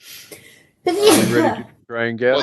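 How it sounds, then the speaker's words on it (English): A person sneezes once early on, a brief sharp burst, followed by a group talking at close range; no further sneezes stand out over the voices. "I was concentrating on my sneeze that was building"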